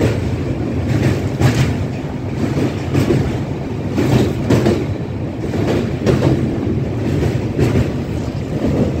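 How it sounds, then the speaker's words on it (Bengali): A passenger train runs steadily, loud and close, with a continuous rumble of wheels on rails and rhythmic clatter; no voices are present. "আজকে টোটাল 53 মিনিট লেটে ট্রেনটা চলছে"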